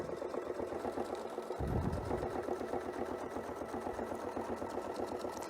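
A sewing machine stitches curved seams on a quilt, running steadily in a close, continuous mechanical chatter of needle strokes, with a short louder burst midway and no voices.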